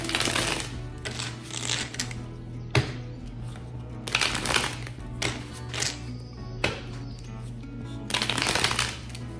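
Tarot cards being shuffled in repeated bursts of crisp riffling and flicking, each a second or so long, close and clear over a faint steady hum, with no talking.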